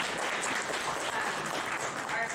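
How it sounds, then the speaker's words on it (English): An audience in a lecture room claps steadily through the whole stretch, a dense even patter of many hands without pauses. "Sure, go ahead and clap."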